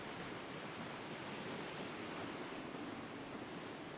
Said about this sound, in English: Look at the serene ocean out here.